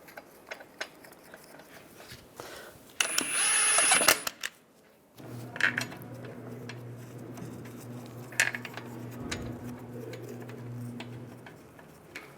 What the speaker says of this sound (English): Take the lug bolt, get that started.